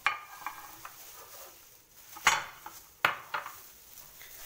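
A Pyrex glass baking dish handled in a home kitchen, giving several bright clinks and knocks, two louder ringing taps standing out among softer scattered clatters, with no talking.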